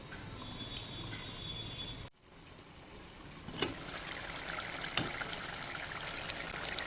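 Chicken bhorta gravy of onion and tomato bubbles steadily under a lid in a covered pan, a continuous soft simmering hiss with faint pops, briefly dipping before resuming at an even level.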